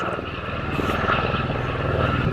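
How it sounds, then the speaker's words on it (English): A helicopter drones steadily overhead near a beach in Sorrento, a moderate continuous engine and rotor hum with no talking. "Oh, there's a helicopter."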